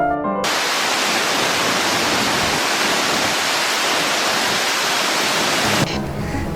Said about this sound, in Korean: 거침없이 쏟아지는 물줄 기와 폭포 소리